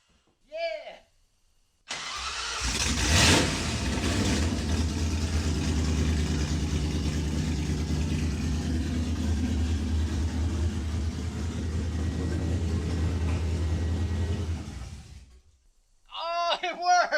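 A 1966 Mustang fitted with a 4.6L modular V8, Holley carburetor and 2.5-inch exhaust cranks and fires quickly, then settles into a loud, steady, rumbling idle for about thirteen seconds before shutting off, with excited voices just before and after.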